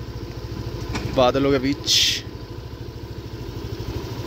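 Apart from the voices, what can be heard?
motorcycle engine while riding in the hills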